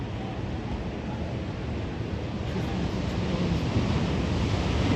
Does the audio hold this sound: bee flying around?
no